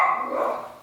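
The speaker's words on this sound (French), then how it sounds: "Puis ici, il y a tellement de chiens qui jappent" A single dog bark heard outdoors, one short close and fairly loud yelp-like bark that fades out.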